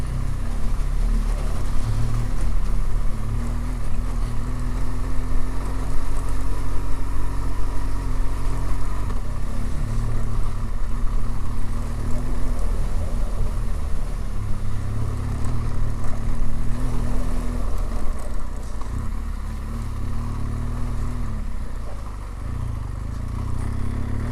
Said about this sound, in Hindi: सामने दरिया चल रहा है फुल पीक पर अपने।